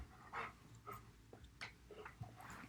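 A dog makes soft, close breathing and snuffling sounds with faint whimpers and small mouth noises in a quiet room.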